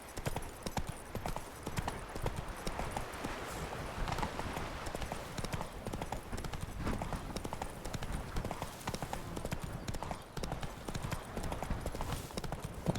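In Witcher 3, the horse Roach trots with continuous, quick clip-clopping hooves, close and steady throughout against light outdoor game ambience.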